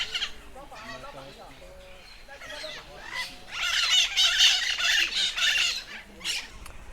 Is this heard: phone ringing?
no